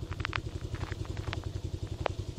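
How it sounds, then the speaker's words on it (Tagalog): A motorcycle idling with a rough, rattling clatter, its loose parts knocking in a fast, even pulse close by, broken by a few sharp metallic ticks and clicks. "Kala mo kasi production yung motor mo. Karag-karag naman."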